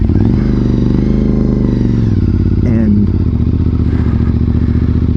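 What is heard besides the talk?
motorcycle engine running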